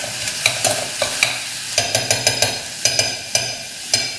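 A prawn and green mango curry is stirred quickly in a pan, with repeated sharp spoon clinks and scrapes against the metal over a constant hiss of frying, close and fairly loud.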